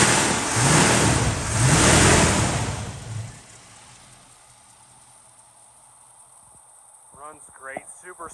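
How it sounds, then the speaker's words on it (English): A 1967 Chevrolet Nova SS engine revs in two loud swells, then settles to a quiet idle, and a voice speaks briefly near the end. "Runs great, super smooth running engine."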